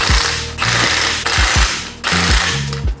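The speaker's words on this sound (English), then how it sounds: "Watch the socket and make sure it just turns just a little bit." Ratchet wrench driving a socket on a Mk8 Golf R during engine-bay modification work, giving loud, close ratcheting bursts in a repeating rhythm with brief pauses between strokes.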